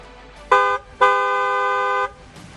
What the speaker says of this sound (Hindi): हॉर्न बजाना जरूरी है